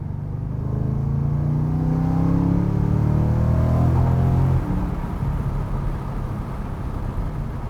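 A BMW E92 M3 fitted with a Magnaflow exhaust and Helmholtz resonators holds steady around 2,500 rpm, a smooth, muted engine hum with no drone, shifting slightly in tone partway through and continuing evenly.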